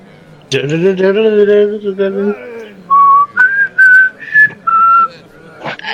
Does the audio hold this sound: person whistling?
yes